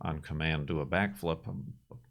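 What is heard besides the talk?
No everyday noise stands out behind the speech.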